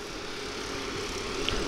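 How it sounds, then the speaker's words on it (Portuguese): Racing kart engines rev high at the Bené Maranhense karting track in Castanhal, Pará, during a round of the 2022 state kart championship: a steady, loud, droning whine that holds without a break. "Na velocidade, os carros giram dos motores, girando alto."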